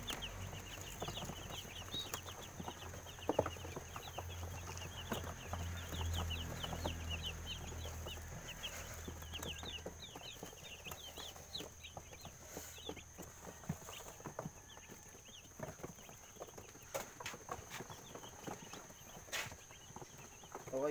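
Baby chicks on fresh bedding keep up a continuous high, thin cheeping chorus, faint and steady, with soft rustling and scratching underneath.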